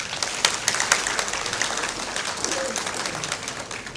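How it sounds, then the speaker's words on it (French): Audience at a public policy masterclass applauding, a steady crackle of many hands clapping at moderate volume from start to finish, with a few sharper individual claps standing out. "Et applaudissez-vous encore une fois"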